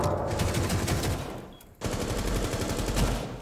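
Rapid automatic gunfire in a Rainbow Six Siege match, dense bursts of shots that break off briefly and then resume, loud and close.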